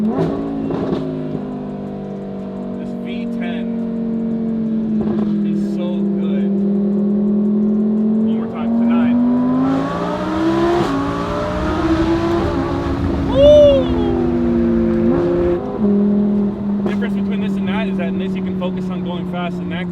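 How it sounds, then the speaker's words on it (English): An Audi R8 Performance V10 on a backroad drive, its engine note droning and rising through revs with a sharp blip near the middle, steady and close under ongoing talk from people in the car. "This V10 is so good."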